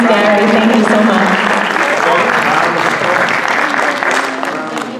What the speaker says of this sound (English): Let's give another round of applause to the ladies and gentlemen who came out tonight, and Mr. Mullen, Ms. Rivera, and Ms. Gary.